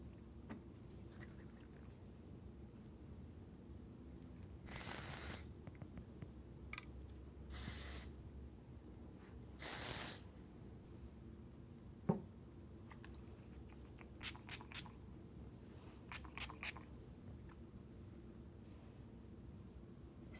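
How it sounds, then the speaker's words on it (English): Bohemian Beach Spray hair product sprayed onto hair in three short, close hissing bursts, each about a second long and evenly spaced, with faint handling clicks between and no talking. "I'm also going to use the Bohemian Beach Spray for some added texture and protection"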